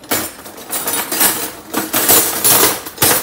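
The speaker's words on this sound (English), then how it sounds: "And then I'm gonna get out the strainer and the blender." Kitchen utensils are pulled out in a kitchen, a strainer and a blender, making a series of close metallic clinks, rattles and knocks in irregular bursts.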